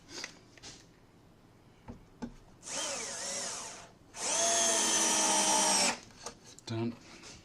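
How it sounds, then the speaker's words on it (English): Power drill driving screws through a sheet into timber during bench-top woodworking, two loud whirring bursts, a shorter one then a longer sustained run, with handling knocks between. "screw through that, and also through the sheet into the timber"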